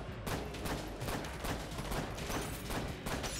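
Steady stream of gunshots from Enter the Gungeon, a loud continuous barrage of bullet fire with no pauses, no voices present.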